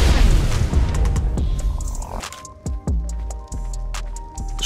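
A structure blows up in the survival video game ARK with a heavy, loud boom that rolls off, followed by several sharp pops and thuds as debris and secondary blasts go off.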